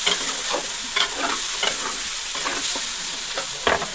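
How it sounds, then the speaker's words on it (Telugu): Chicken for biryani is stirred and mixed in a hot pan, a steady sizzle with repeated scraping strokes of a spoon at an irregular rhythm, close and clear with no talking. "చికెన్ వేసి కలపాలి."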